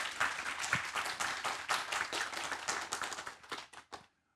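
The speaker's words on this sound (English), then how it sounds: "I want everyone to join me in giving her a warm round of applause" A conference audience applauds warmly for a minister before a panel, dense clapping filling the room steadily for about four seconds, then thinning to a few last claps before silence.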